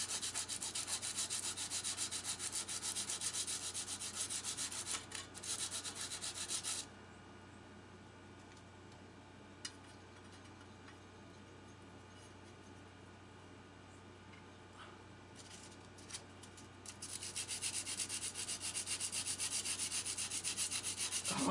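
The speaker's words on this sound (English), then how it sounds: "A little bit of sandpaper action here" Sandpaper rubbing against a magnet on a go-kart engine, a steady scratchy rasping that is loud at the start and end, with a quieter stretch of lighter strokes in the middle and no talking.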